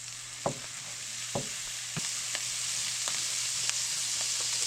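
Butter melts in a pan over medium heat, giving a steady soft sizzle with a handful of sharp pops and clicks scattered throughout, no voices.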